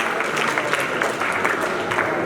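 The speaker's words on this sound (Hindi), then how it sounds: "ताली बजाइए इस बच्चे के लिए" An audience at a school event applauds a student, a steady wash of clapping hands from a crowd filling the short stretch at even loudness.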